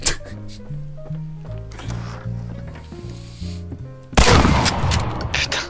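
Shotgun fire in Medal of Honor: Allied Assault, one loud, harsh blast near the end with a rough, decaying tail, after several seconds of tonal game music.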